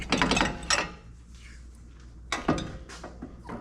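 An anti-rattle spring clip is pried off a Ford Focus brake caliper, giving two clusters of close metallic clanks and scrapes separated by a quiet pause, without talking.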